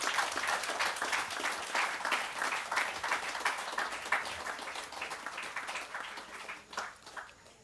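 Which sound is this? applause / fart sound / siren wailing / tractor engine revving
applause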